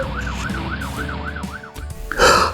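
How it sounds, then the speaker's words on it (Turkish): A toy-game fire truck's wailing siren rises and falls in steady repeated cycles over rumbling traffic, then a burst of louder noise near the end. "Bu bir itfaiye arabası."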